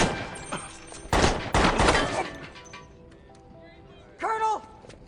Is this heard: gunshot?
yes